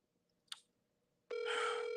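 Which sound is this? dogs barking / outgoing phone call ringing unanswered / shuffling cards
outgoing phone call ringing unanswered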